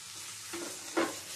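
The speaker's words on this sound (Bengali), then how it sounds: "সমস্ত কিছু দিয়ে গ্যাসের স্টিমটা লো টু মিডিয়ামে রেখে নেড়ে যেতে হবে।" Boiled fish is stirred into a fish ball curry mixture over a low to medium gas flame, giving a brief, soft scrape and gentle sizzle, close and faint, with no talking.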